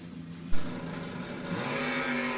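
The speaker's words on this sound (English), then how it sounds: "You hear cars going on a racetrack." Race car engines, including S10 trucks and wagons, whine and roar on a track during the Spring GALOT 250 race, with a sharp thump early on followed by a steady high-pitched motor drone.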